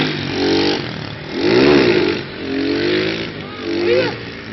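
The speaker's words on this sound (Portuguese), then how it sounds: "É que a moto dele tá sem força" A weak, underpowered motorcycle revs on a climb, its engine rising and falling in several strained surges, with voices talking over it.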